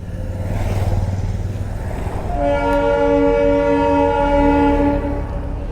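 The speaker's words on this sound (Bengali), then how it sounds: "হর্নটা কিন্তু দারুণ দেখো" The toy train on the mountain line to Rongtong sounds a loud, close, sustained horn blast lasting about three seconds, after a rumble of engine and road noise.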